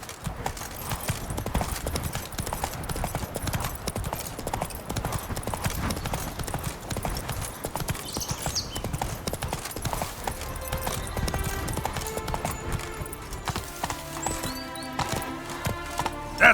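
Roach, the horse in The Witcher 3, gallops with fast, continuous hoofbeats that stay loud and close throughout, and tonal music rises toward the end.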